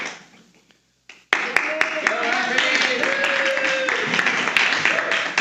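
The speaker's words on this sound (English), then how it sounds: "Give a round of applause." Audience applause at a retreat event, a burst of dense clapping from a crowd that starts suddenly after a brief quiet and carries on steadily.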